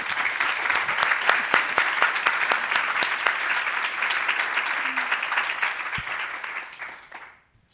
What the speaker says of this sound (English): if I could ask you to give the ladies here a big round of applause